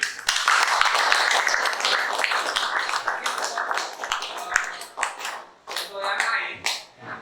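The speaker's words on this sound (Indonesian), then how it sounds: "Tepuk tangan buat kelompok 7" A classroom of students claps for a group, brisk, dense applause that gradually thins into a few scattered claps with some children's voices mixed in.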